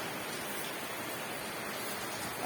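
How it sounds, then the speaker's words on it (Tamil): Rain pours down steadily at a house, making a dense, even hiss with no breaks and no voices. "இதை பாருங்க, எங்கள் வீட்டில் அந்த மழை பெய்யுது."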